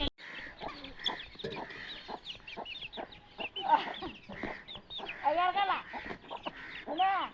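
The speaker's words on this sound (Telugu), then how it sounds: "ఇగో కోళ్ళు." Chickens cluck in short, repeated bursts at close range, with a child's and adult's voices mixed in among the calls.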